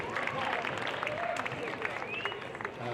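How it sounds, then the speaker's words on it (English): Audience applause fills a hall at a CalArts West African music and dance event, a steady mass of clapping and crowd noise sustained throughout at moderate level. "Applause for yourselves."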